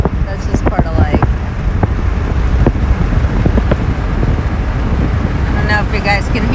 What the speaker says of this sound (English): with the window open and the wind rushing through